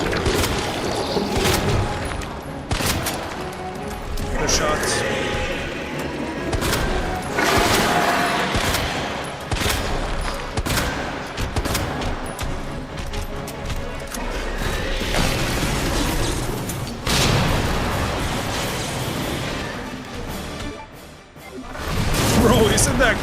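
Sustained bursts of heavy gunfire in Resident Evil 2, loud and close with sharp repeated shots and booming hits over ongoing game noise, with people talking throughout.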